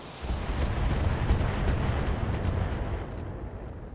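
Long-range missiles launch in a BattleTech battle, a dense, continuous roar of overlapping blasts and rumbling bursts sustained for several seconds before tapering off, loud and close with no talking.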